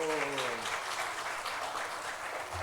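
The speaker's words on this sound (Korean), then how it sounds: "박수하겠습니다. 힘내시라고." A church congregation applauds after a prayer during a Korean worship service, a steady wash of many hands clapping that holds at an even level throughout the short stretch.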